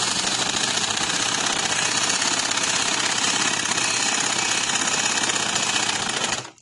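A sewing machine runs a double line of stitching along a dress sleeve, a loud continuous rapid rattling drone that stops abruptly at the very end.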